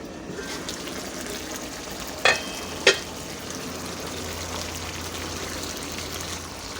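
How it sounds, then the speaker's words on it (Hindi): Taro pieces frying in oil in a pan, a steady soft sizzle with two brief sharp clatters of stirring partway through, no voices. "ये अरबियों को हम अपनी भून लेंगे।"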